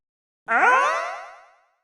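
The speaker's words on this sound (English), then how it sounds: "a life-size cardboard cutout of a lab, which fell over and made a very interesting sound effect" A life-size cardboard cutout falls over, making a single cartoon-like boing, a bright springy twang that wobbles in pitch and fades out over about a second.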